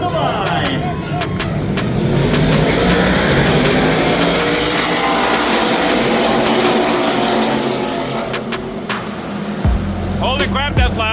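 Stock car racing engines roar loudly at an oval track as the field gets underway in a 150-lap race, a sustained, thick engine din with cars passing close, rising and falling pitch sweeps near the end.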